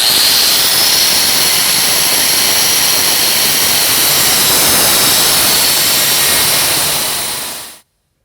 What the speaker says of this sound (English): I'm going to use a cutoff wheel today.